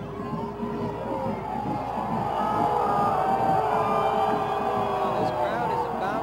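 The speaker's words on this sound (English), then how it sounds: "this crowd is already erupting" High school football crowd roaring and cheering in a dense, building wave after a fumble in a game between Pace Vikings and Edcouch Yellowjackets, with shouts and whoops mixed in and announcers talking over it.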